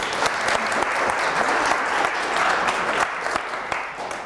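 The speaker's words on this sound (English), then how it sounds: "It's a big round of applause for Kevin." A conference audience gives a round of applause for speaker Kevin at a start-up event, dense continuous clapping from a sizable crowd lasting the whole few seconds.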